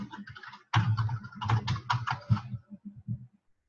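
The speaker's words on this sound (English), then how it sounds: "Type in the email address." Quick bursts of typing on a computer keyboard as an email address is entered, clustered taps in close succession that slow and thin out toward the end, heard close and alone.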